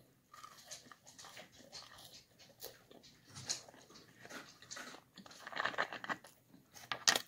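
Cold McDonald's fries are chewed close to the mouth in quiet, irregular bursts of soft, moist crunching, with no talking.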